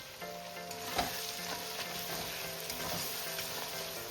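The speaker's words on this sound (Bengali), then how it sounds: "রসুনের কাঁচা গন্ধটা চলে যাওয়া পর্যন্ত মশলাটাকে আমি ভালো করে কষিয়ে নেব" Spice paste of mustard, garlic and tomato frying in a pan, a steady close sizzle with a few louder stirring knocks and scrapes, no voices.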